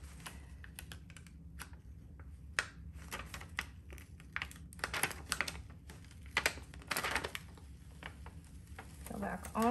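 Heat transfer vinyl is peeled off a fabric tote bag in a quiet room, giving a run of short, close crackling rips and scratchy bursts, with a louder tearing sound at the end.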